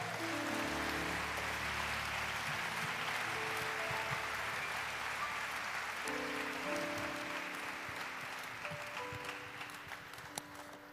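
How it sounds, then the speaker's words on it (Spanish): A church congregation at a national convention gives sustained applause, a dense wash of clapping mixed with faint music and crowd noise that fades gradually toward the end. "Dele un aplauso fuerte al Señor."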